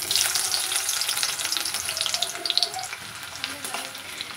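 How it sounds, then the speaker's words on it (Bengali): Chopped onions fry in hot oil with a dense, continuous crackling sizzle, close and fairly loud, with no voices. "তো দেখো পেঁয়াজগুলো একটু লাল লাল করে ভেজে নিচ্ছি"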